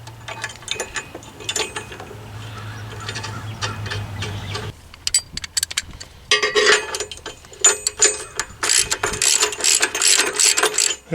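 A hand ratchet with a 16mm socket tightening a nut during a winch install on a Jeep Wrangler JKU, giving bursts of close, loud metallic clicking with pauses and a low hum beneath.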